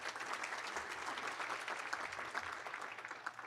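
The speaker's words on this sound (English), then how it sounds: "let's give him a round of applause anyway." Steady applause from a crowd at a medical school honors convocation, a dense patter of clapping hands that holds evenly throughout at moderate distance.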